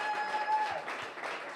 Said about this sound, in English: Another round of applause, you guys.